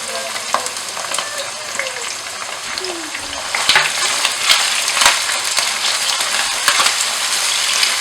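Chicken frying with onion and tomato in a pan for homemade spaghetti, a loud steady sizzle broken by sharp scraping strokes and clatters of a stirring spoon at close range.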